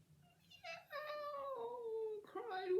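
A voice imitates Wilbur the cat, giving a long, drawn-out, plaintive meow that falls in pitch, followed by a shorter rising one.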